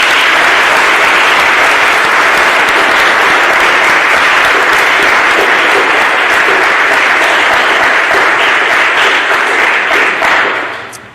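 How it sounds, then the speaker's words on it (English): Dense, loud applause from the audience at the 2019 Albany mock trial finals fills the room for about ten seconds before tapering off sharply. "So, round of applause"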